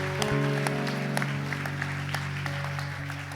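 A church congregation claps and cheers in praise during a healing service in Geneva, with steady applause under sustained organ or keyboard chords and scattered voices.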